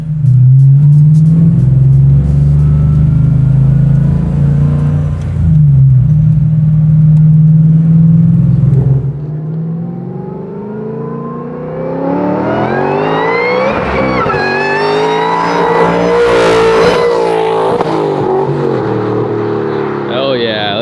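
A 785-horsepower Mustang Fastback throbs at a deep steady idle, then its engine revs hard and climbs in pitch during burnouts, loud and close, with people talking over it.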